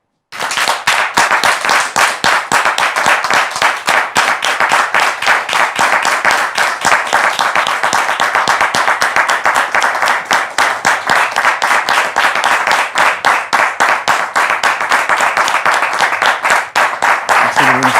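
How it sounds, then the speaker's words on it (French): A studio audience on a French talk-show set breaks into loud, sustained applause, a dense wall of clapping hands that carries on without pause for the whole stretch. "Sous vos applaudissements, s'il vous plaît."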